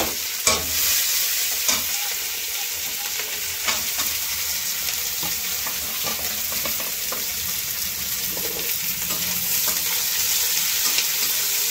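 Onions with cloves and green cardamom frying in a pan, a steady close sizzle running throughout with frequent clinks and scrapes of stirring.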